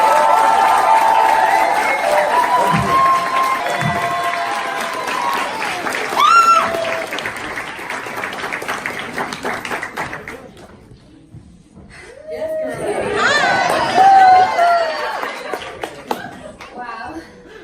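A conference audience at a tech and entertainment keynote claps loudly to welcome speaker Aniya Wolfe: dense, sustained applause with scattered cheers and voices, easing briefly before swelling again near the end.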